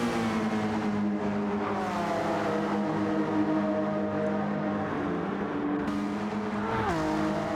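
Race car engines at Spa-Francorchamps in a racing video game endurance race: a loud, steady engine drone that rises and falls through gear changes and revs, with the pitch sweeping upward near the end.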